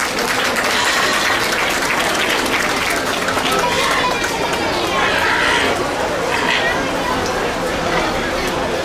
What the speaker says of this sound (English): So let's give him a nice round of applause and a warm welcome.